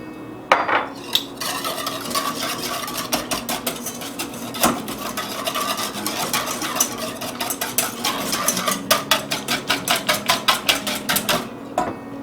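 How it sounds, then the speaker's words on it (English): A whisk clatters rapidly against a bowl, mixing all-purpose flour into an Amish ham salad dressing, with dense metallic scraping that runs steadily and then turns into a quicker run of clinking strokes near the end, with no voice. "Now I'm going to whisk in 2 teaspoons of all-purpose flour."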